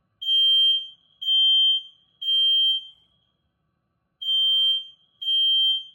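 A fire alarm beeps five times in a steady pattern: three shrill tones, a short gap, then two more. Each tone is loud and piercing in an otherwise silent room.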